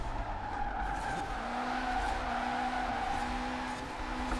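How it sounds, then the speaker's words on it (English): Tires screeching in a sustained sideways drift in the racing game Forza Horizon 4, played on a Logitech G920 wheel, a steady loud squeal over a droning engine, with no pauses. "Doing a little sideways sliding in a race where we gotta stay within our lines."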